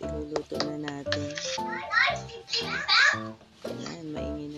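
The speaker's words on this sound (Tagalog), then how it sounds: "maingay na naman ang mga bata" Children chatter, shout and babble noisily close by in a home kitchen, lively overlapping kid voices in bursts that fill the whole moment.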